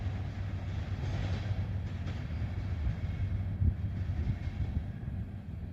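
A steady, low rumble of a mile-long CSX freight train rolling on rails at night, continuous and fairly close, with a faint clank partway through.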